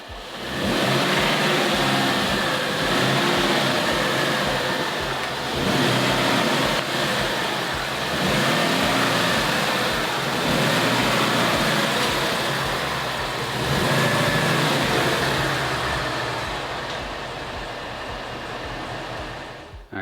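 A 2011 Ford Mustang GT, delivered wrecked with front crash damage, is driven into a garage. Its engine gives a loud, close, steady rumble that swells and eases slightly as the car creeps forward.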